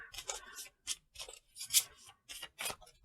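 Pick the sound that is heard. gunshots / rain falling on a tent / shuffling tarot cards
shuffling tarot cards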